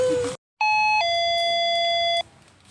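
A notification bell sound effect rings out clearly after a short burst of noise and a brief gap: a bright electronic chime that steps to a second sustained tone and holds for about a second before fading into low background hiss.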